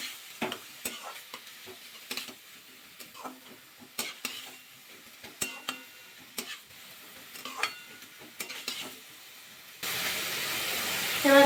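Potatoes frying in a pan are stirred with repeated scraping and clinking strokes over a quiet sizzle. Near the end, a loud, steady hiss swells up.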